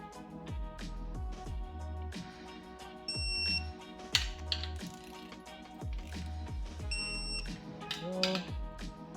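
Two separate high-pitched beeps from a digital torque wrench set to 18 foot-pounds, seconds apart, sound over repeated ratcheting clicks and low mechanical thuds from camshaft installation on an LS engine, all close by.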